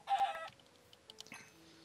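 Chickens cluck in a blocky survival video game where zombies roam: a loud burst of clucking at the start, then fainter scattered clucks and small game noises, with no talking.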